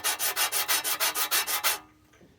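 Sandpaper of 120 grit rubbed back and forth over a rear brake rotor from a 2020 Dodge Charger makes about a dozen loud, even rasping strokes close up, then stops.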